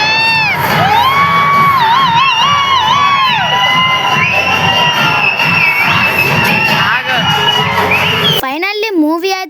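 A cinema audience at a screening of the film Peddi erupts in loud, sustained screaming, whooping and shouting, many voices including children's layered into a dense roar before a sudden cut to a single closer voice.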